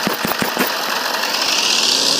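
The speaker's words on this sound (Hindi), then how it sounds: "बाइक चलाने का मजा है।" Motorbike engine while riding in the Rope Hero video game, a steady loud droning hum with a few sharp knocks at the start, alone without talk.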